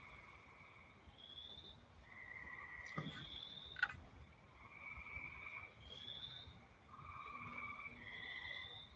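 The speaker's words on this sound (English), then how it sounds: "I love our background noise. Like for me, the frogs and the bugs at the creek" Frogs croak at a nighttime creek in a faint, distant chorus, repeated trilling calls overlapping in waves against a soft background hiss, with a couple of brief clicks.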